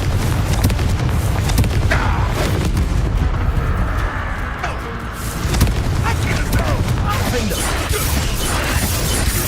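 Continuous booming blasts and crackling impacts from Confringo fire spells in Hogwarts Legacy combat, loud and sustained with a dense low rumble, with voices faintly under the noise.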